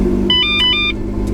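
A Valentine One radar detector powers on inside a car, giving a quick series of short electronic beeps and chirps over a steady engine hum, with no one speaking.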